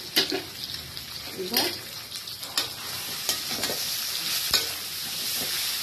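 Vegetable curry with salt and turmeric stir-fried in a pan, a steady sizzle under repeated scraping stirs and a few sharp clicks of the spatula against the pan, close and fairly loud.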